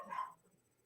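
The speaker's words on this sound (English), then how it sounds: "I'm sorry about the dogs today." A single short dog bark or yip sounds close by, then trails off quickly into quiet.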